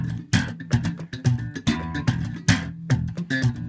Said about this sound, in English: if I pluck on the bottom string instead of the top string, that sounds like this.